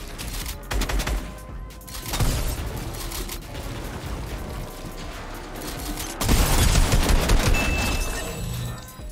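SMG and assault rifle gunfire in Fortnite, bursts of rapid loud shots in clusters with mechanical clatter between volleys, heaviest near the start and again toward the end.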